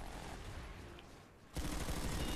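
Hip-fired gunfire in the video game Planetside 2 comes as a dense, loud burst of rapid shots that starts abruptly partway through and continues to the end. Muffled game noise comes before it.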